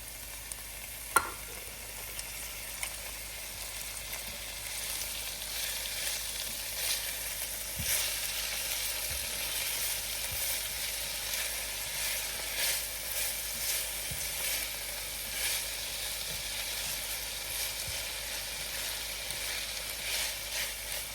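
Garlic and tomatoes go into a hot pan for a Southern mustard greens dish and set off a steady, hissing sizzle with a few soft stirring knocks and scrapes.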